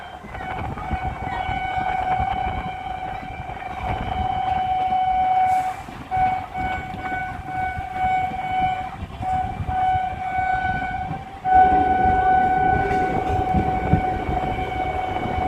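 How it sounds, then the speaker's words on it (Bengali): A passenger train on the Amghata route rolls into Krishnanagar City Junction station with a loud, steady rumble and a sustained horn tone, pausing briefly before the rumble resumes more heavily near the end. "আমাদের ট্রেন কিন্তু অলরেডি চলে এসেছে পৌঁছে গেছে কৃষ্ণনগর সিটি জংশন রেলওয়ে স্টেশনে"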